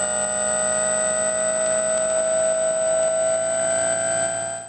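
Small FPV model airplane with a steady high-pitched electric motor whine, loud and close, holding nearly level throughout as it makes a slow flyby.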